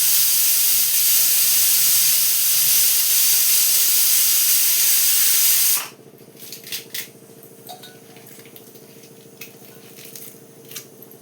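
Water running loudly from a tap while curry leaves are rinsed, a steady close hiss that stops abruptly halfway, followed by scattered light clinks and drips.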